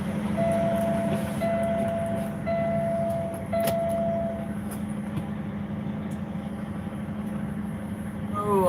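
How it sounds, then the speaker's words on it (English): Truck engines start and idle nearby in a residential area, a low steady rumble throughout with faint reversing-style beeps and occasional clicks and knocks over it. "Every damn body and her brother around here is starting their trucks up"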